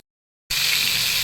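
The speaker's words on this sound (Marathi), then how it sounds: "दोन्ही साईडने खरपूस रंगावर भाजून घेते ह्याला मी." Vam fish sizzling loudly as it pan-fries to a crisp golden colour on both sides, a sudden steady broadband hiss bursting in after half a second of silence and continuing to the end, close and alone.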